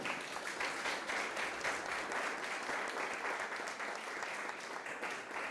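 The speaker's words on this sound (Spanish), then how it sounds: "Dale ese aplauso al Rey, iglesia." A church congregation claps together in sustained, even applause that fills the room throughout and carries no voices over it.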